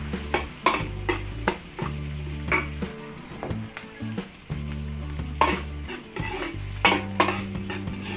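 Onion and garlic sauté in a pan for Filipino cooking, giving a steady sizzle. Repeated scraping stir strokes and metallic clinks of a utensil against the pan come in an uneven rhythm, with no talking.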